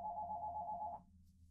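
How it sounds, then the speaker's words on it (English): An office telephone rings with a single steady electronic tone lasting about a second, then cuts off abruptly into near silence, heard fairly clean and close. "My office phone ringing."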